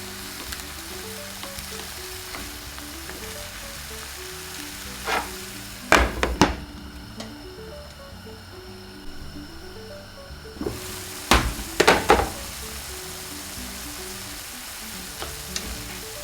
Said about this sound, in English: Stir everything well so the sauce evenly coats the pork and vegetables